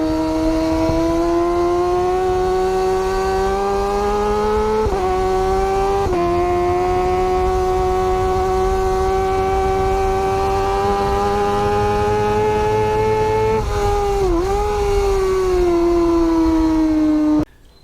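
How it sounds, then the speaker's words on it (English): A motorcycle engine revs loudly and steadily for a long stretch, holding a droning pitch that rises gradually, with a few brief dips and surges, close and alone. "Here's a motorcycle. Look at the power that's in this machine."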